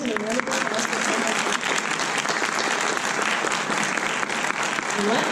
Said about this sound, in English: So please join me in a round of applause for Carmel.